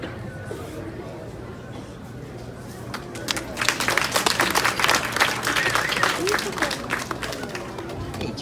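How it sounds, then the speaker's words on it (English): Audience applause at an Aikido demonstration on New Year's Day, starting around the midpoint and swelling into dense, steady clapping from a crowd, with background chatter and a voice speaking over it. "The faller gets more applause than the man throwing."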